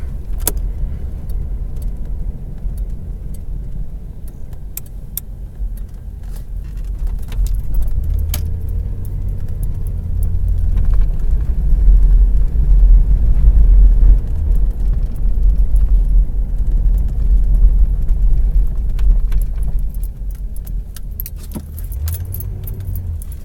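A 1985 Chevy Caprice Classic station wagon rolls over a bumpy road, steady low road rumble that swells in the middle, with keys jangling and small rattles and knocks inside the cabin.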